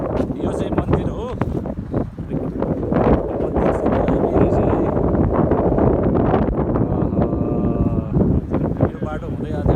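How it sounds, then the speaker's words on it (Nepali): Wind rushes through a pine grove beside a hilltop temple near Jhanda Park in Nepal, a steady roaring buffet on the microphone that runs throughout while people talk over it. "सल्लाघारीमा चाहिँ सरर हरार हावा चलिरहेछ"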